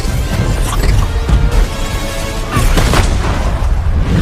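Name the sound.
explosion in film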